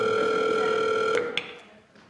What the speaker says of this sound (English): I think I'll call my friend